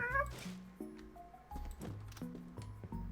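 A cat meows in the Tabletop Game Shop Simulator video game, a rapid series of short, close meows one after another, with faint rustling underneath.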